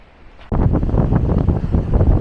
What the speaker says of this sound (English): Wow, that wind is intense, and we're walking straight into it